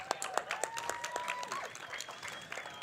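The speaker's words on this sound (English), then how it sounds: "Give them a clap, girls." Applause from players and spectators after a 2026 women's box lacrosse semi-final between South Australia and Western Australia, with steady mid-distance clapping, some sharp nearby claps standing out, and a faint tonal whistle in the background.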